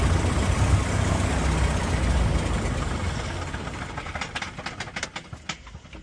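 A 1950s Piper TriPacer aircraft engine runs loud and steady at idle, a dense low rumble that eases slightly toward the end with a few sharp pops or knocks near the close.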